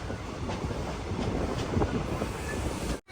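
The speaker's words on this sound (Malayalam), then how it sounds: "ഗോകർണ റോഡ് റെയിൽവേ സ്റ്റേഷനിലേക്ക് നമ്മുടെ ട്രെയിൻ എത്തിയിരിക്കുകയാണ്" The Matsyagandha Express pulls into Gokarna Road railway station, heard from aboard as a steady rumbling roar with faint rail clatter and some wind buffeting, ending abruptly.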